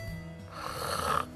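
A person snoring in sleep as the relaxed airway narrows: a single drawn-out rattling inhaled snore, close and moderately loud, rising in intensity before cutting off.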